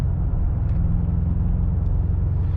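A 2025 BMW M5 pulls under moderate throttle in Dynamic Plus mode, heard from inside as a loud, steady low engine drone and rumble without kickdown, with no talking.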